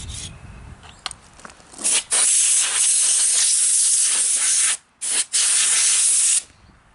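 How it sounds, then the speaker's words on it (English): Compressed air blasting from a nozzle to clean a dirty air compressor, loud sustained hissing bursts, one long and one short with a brief gap, following quieter handling noises. "Use the compressor to clean the compressor."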